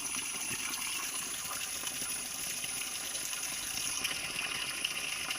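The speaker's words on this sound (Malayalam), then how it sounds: "വെള്ളച്ചാട്ടം" A steady, unbroken roar of rushing water, like a waterfall close by, with no voices and a constant, even loudness throughout.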